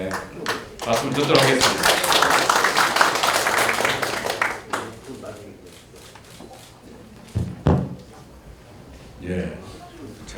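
An audience applauds at a Democratic Party policy forum on cell-based COVID-19 treatments, a dense burst of clapping for about four seconds before it fades, followed by a speaker talking with a few scattered taps.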